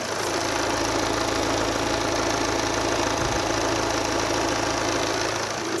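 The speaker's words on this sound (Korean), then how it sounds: "빠르게 엔진음 들려드릴게요" A 2018 Volvo V40 car engine idles steadily and close up, a constant low hum with an even mechanical ticking and no voices.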